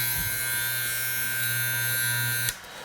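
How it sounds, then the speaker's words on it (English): An Andis Master hair clipper runs dry without oil, giving a steady, close-up electric buzz with a high whine that cuts off abruptly near the end. "That's how your clipper should be sounding."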